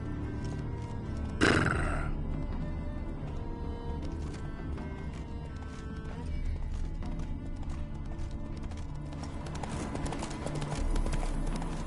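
A horse whinnies sharply once near the start in The Witcher 3 on PS5, with bees nearby, followed by hooves clip-clopping and ambient game sounds continuing underneath.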